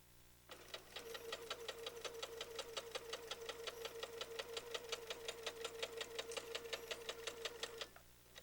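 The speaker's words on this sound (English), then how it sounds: "you can do chain sewing, which makes finishing the block so much faster" A sewing machine stitches quilt block units in a continuous chain, running steadily with a fast, even rapid-fire needle rhythm for about seven seconds before stopping, close and clear with no talking.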